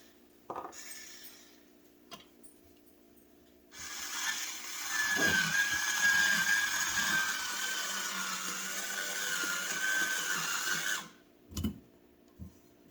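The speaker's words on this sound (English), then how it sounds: "That's how easy it is with our electric wine opener" An electric wine opener pulls a cork from a bottle, a motor whirring steadily for about seven seconds after a few light clinks, then a couple of small knocks as it finishes.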